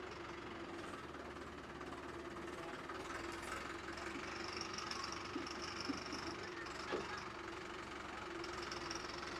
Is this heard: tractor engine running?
yes